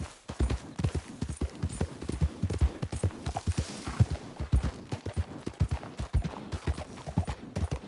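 A horse gallops in a video game, its hooves beating out a fast, steady clip-clop rhythm that stays loud and close throughout.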